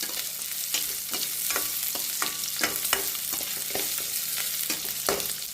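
Onions sizzle steadily in a pan, close and moderately loud, while repeated scraping strokes of stirring come at an irregular rhythm.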